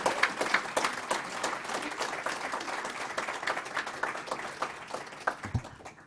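An audience at a West Chester University event applauds, a dense patter of many hands clapping at moderate distance that runs steadily throughout and tapers slightly toward the end.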